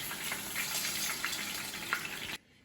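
Chicken pieces sizzle steadily in hot oil for a Kuzhi Mandi recipe, a dense, even crackling hiss heard close but fairly soft, with a few sharper pops before it cuts off abruptly near the end.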